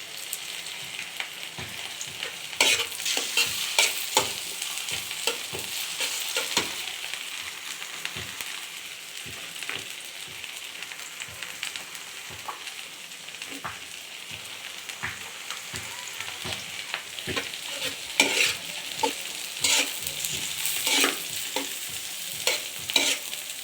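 Food being stirred and sautéed with prawns in a very large pot, a spoon scraping and clattering in repeated strokes over a steady close sizzle, with no talking.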